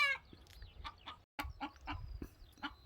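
Chickens clucking repeatedly nearby, with short irregular bursts of clucks and calls over a low rumbling background.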